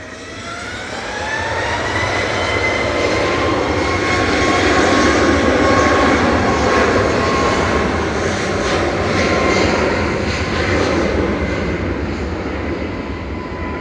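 A Boeing 737 Max 8 departs Manchester for Riga, its engine roar building loudly with rising whining tones and then holding a strong, close rumble with slow surges. No voices can be heard.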